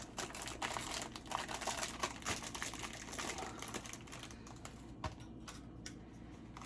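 A paper popcorn bag having its sides folded in, giving close crinkly rustling and rapid crackles that continue steadily and thin out toward the end, no voices.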